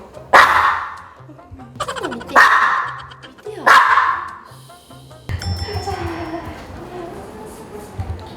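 At a veterinary clinic, a dog lets out three loud, sharp barks a second or two apart, close to the microphone, followed by people talking.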